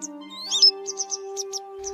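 A yellow-bellied wagtail gives a rising call followed by a series of short, sharp chirps, clear and fairly close, over a steady low electronic hum.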